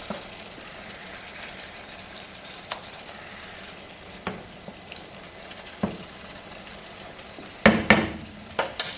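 Garlic is stirred into a simmering bolognese sauce, with a quiet bubbling sizzle and sparse utensil taps, ending in a louder burst of clatter and scraping.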